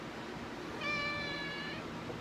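A single drawn-out cat meow, clear and fairly close, rises over a steady background hiss and lasts about a second.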